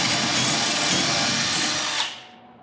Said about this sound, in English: we're going to pre-drill this hole